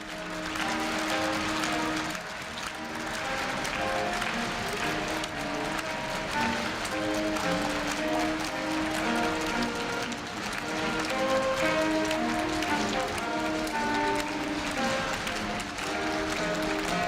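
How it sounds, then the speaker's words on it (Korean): A big crowd at a Korea University freshman entrance ceremony keeps clapping in a continuous, even patter while the president and faculty exit, with music playing beneath the applause. "네, 박수 부탁드립니다"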